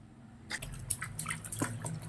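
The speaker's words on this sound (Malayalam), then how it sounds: "എനിക്ക് വെള്ളം കോരി നിന്റെ മുകളിൽ ഒഴിക്കണം" Scooped water is poured over a child during a bath, giving soft, quiet splashes and drips in uneven bursts after a short silence.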